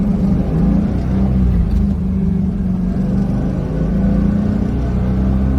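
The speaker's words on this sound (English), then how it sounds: "we can open it up for you right now to show you how well it does shift in the gears" A 2002 Chevrolet Camaro Z28 drives steadily under load, its engine a constant low drone with slight rises and dips as it runs through the gears, heard from inside the car with no talking.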